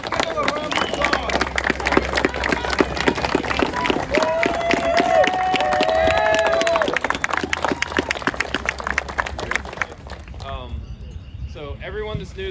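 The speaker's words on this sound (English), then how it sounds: "Let's give them a round of applause." An outdoor crowd at a Florida metal-detecting relic hunt applauds veterans, with dense clapping and scattered voices for about ten seconds before it fades away.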